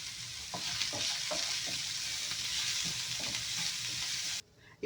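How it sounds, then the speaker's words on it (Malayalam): Onion frying in a pan with salt for a cabbage and spring onion stir-fry, a loud, continuous close sizzle with repeated stirring scrapes, cutting off abruptly at the end. "ഇനി ഈ ഓണിയൻ ഒരു ഗോൾഡൻ കളർ ആവുന്നത് വരെ ഫ്രൈ ചെയ്തെടുക്കണം."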